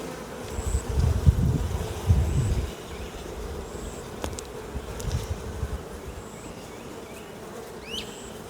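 Honey bees buzz around an open hive frame holding brood and honey, a dense, steady hum close by with individual bees droning past the listener.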